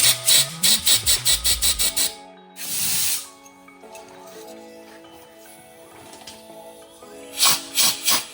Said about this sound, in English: Now she's just gonna blow some air through all these lines down here that were from the tank.